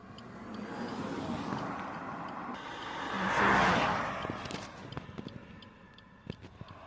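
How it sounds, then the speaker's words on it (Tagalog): Road traffic with many vehicles passing: a steady, fairly faint rumble swells as one vehicle goes by, then fades, with scattered light ticks and knocks and no one speaking. "Jesus Mariosep, ang daming sasakyan."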